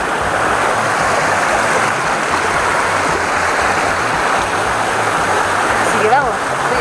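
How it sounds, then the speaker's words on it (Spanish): Loud, constant rush of a stream fed by the Salto de Apoquindo waterfall on a mountain trail, a broad steady wash of flowing water close by, with a person speaking over it. "Agua totalmente pura que viene del salto."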